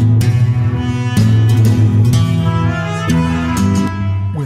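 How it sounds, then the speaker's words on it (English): A bright mariachi trumpet line rings out over strummed Spanish acoustic guitars, with sharp rhythmic accents, loud and close in a lively Latin style. "We add to that trumpet, a Spanish kind of mariachi trumpet to that."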